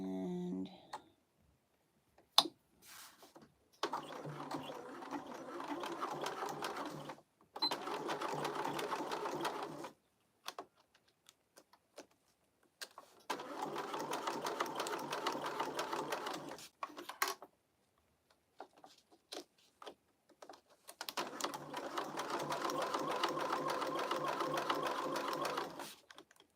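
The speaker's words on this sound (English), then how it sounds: "this wax canvas does sew really nice" A sewing machine stitches wax canvas in several sustained runs of rapid, steady whirring, separated by pauses with small clicks and handling noises, close and fairly quiet.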